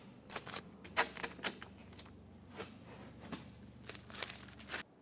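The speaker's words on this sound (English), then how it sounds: "Get the tape off." Protective tape peeled off the door window of a 2009-2014 Ford F-150 after a window regulator and motor replacement: a close series of sharp, crackly rips in uneven bursts, with no talking.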